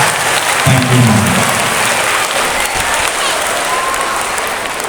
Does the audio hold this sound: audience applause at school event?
yes